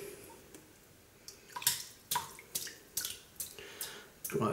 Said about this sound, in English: So let's wet the brush,